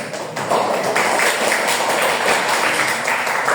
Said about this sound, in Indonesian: buat tepuk tangan untuk kita semuanya